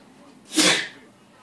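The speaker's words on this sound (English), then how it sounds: "Husband's sneezing over there." A single loud, close sneeze from a man in a home setting, a sharp burst lasting under half a second against quiet background.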